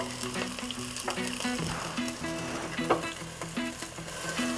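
Ginger and green chili paste frying in a pan for a white kurma to go with parotta, giving a steady close sizzle with light scrapes and clinks of a spoon running throughout.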